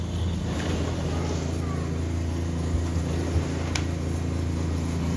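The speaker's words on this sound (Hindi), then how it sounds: "गाड़ी है" A car engine idles steadily with a low, continuous rumble throughout, close by and fairly loud, while children's voices and play carry faintly around it outdoors.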